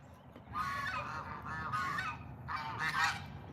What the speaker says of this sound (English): I know the geese are over there